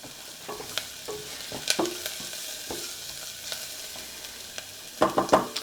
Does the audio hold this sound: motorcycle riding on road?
no